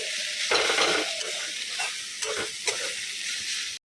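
Red amaranth greens cook in a pan with a tempering of dried chili and five-spice seeds, a close, dense sizzle broken by repeated stirring scrapes and light clanks.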